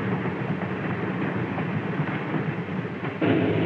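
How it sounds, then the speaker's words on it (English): A 1950s American locomotive starting off with its train: a steady heavy rumble and mechanical churn from close by, continuous and loud, swelling slightly at the end. "The huge locomotive sets the train in motion,"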